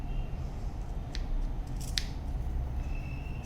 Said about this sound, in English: We are going to clip the corner deep till the seam, next to the seam, but make sure you don't cut the seam.